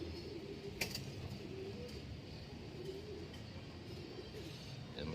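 Soft pigeon cooing repeats in a low, throaty rhythm against faint outdoor background, with a brief sharp click near the start.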